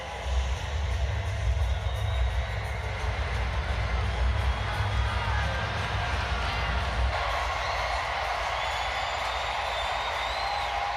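Ballpark crowd noise at Daikin Park during a Mariners at Astros baseball game as runners reach first and second: a steady, loud, diffuse roar of spectators that swells into cheering, continuous across the whole stretch.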